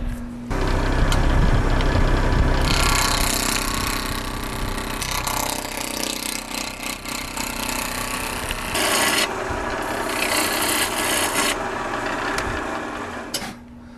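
A wood lathe turns a dead-blow mallet blank of about 4 to 5 inches as a tool scrapes and rasps against the spinning wood, loud and close, with bursts of cutting that fade and return over a steady motor hum.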